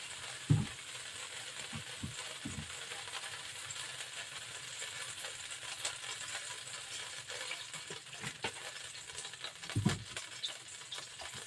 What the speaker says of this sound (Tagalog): maglagay tayo ng konting oil again para may gisa na natin ang mga veggies natin guys